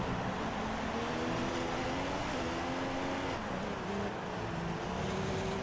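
Race cars run down a straight in a racing video game at the Singapore GP, a continuous, loud engine drone with steady pitch that sweeps and shifts as cars slipstream, no talk over it.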